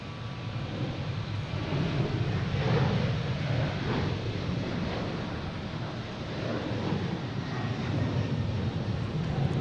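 A broad, steady engine roar from a Delta jet airliner passing at Boston Logan International Airport, sustained and fairly distant, with a wind-like wash and no talking.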